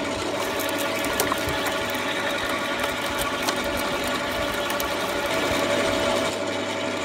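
A garden shredder grinds branches into BRF wood chips, a steady dense mechanical whir and crunching that holds at an even level throughout, loud and close, with no voices.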